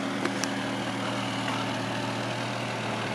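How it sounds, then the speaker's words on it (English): A 1972 Mercury Cougar XR7 convertible idles steadily, a low constant engine rumble with a smooth even drone and no revving, heard up close. "You get a little bit of preview of that engine sound there"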